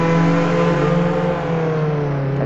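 Ferrari engine in Roblox Jailbreak time trials, a steady droning rev with strong tonal harmonics, loud and continuous with no talk.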